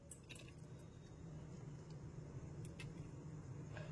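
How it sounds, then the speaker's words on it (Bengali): Fried semolina gulab jamun sweets slipping into warm sugar syrup, giving faint soft squishy splashes with a few small liquid drips over a low background hum, no talk. "সমস্ত ভেজে নেওয়া মিষ্টিগুলো একে একে শিরার মধ্যে দিয়ে দিলাম।"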